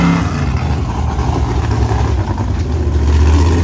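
Race cars at the Crossbar Ranch Ultra4 event: a loud, steady, throaty engine rumble that swells slightly toward the end as they draw closer, with no talk.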